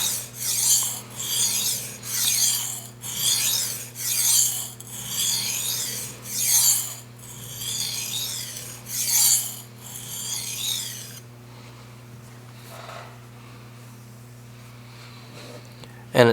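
A kitchen knife with a mammoth tusk handle is stroked back and forth on a coarse whetstone, producing about nine rhythmic, close rasping passes, then the strokes stop and a low hum remains.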